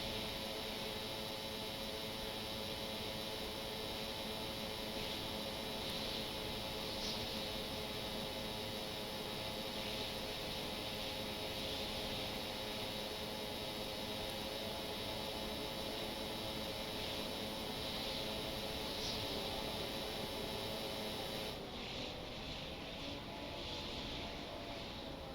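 Steady, even engine drone of a helicopter drone in the vehicle-building game Stormworks, a constant broadband whine with faint tonal bands running unbroken throughout, shifting slightly in tone near the end.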